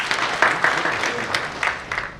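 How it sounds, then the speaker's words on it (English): An audience at a book launch ceremony claps in brief, moderately loud applause with a ragged, scattered rhythm. "Give him a big round of applause."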